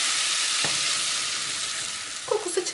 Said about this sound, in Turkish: Kokusu çıkana kadar yaklaşık 1-2 dakika kavurun.